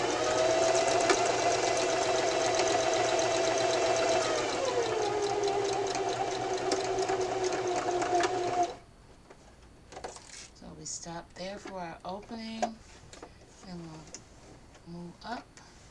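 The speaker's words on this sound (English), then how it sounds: "we will begin by back stitching at the beginning" A sewing machine back stitches a Valentine pillow, running steadily and fairly loud for about eight seconds with a brief change in pace partway through, then stopping as a voice speaks over the quiet.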